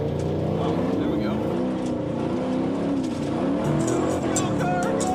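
A car is driven hard up an off-road hill with its engine loud and close, revving and straining in a continuous roar with shifting pitch, and voices are heard over it.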